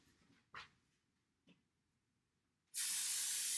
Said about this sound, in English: Go ahead and spray the first one.